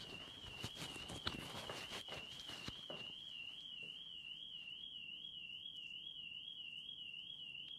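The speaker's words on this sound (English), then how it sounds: "we'll wait for this alarm to go off" A van's car alarm sounds outdoors as a steady, wavering electronic tone that pulses continuously at a distance, faint and unbroken over low street background.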